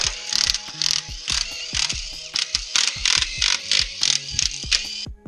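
A ratchet wrench clicks in quick repeated bursts, close and crisp, as 10 mm bolts come out of the case halves of an NV273F transfer case, with short pauses between runs.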